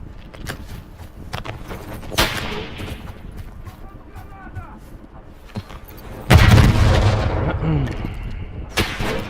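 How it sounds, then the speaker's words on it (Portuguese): Gunfire aimed at the player in the video game Call of Duty: Warzone, scattered sharp shots followed by a loud, sustained burst and rumble, heard with game sounds and voices. "Estão atirando em mim."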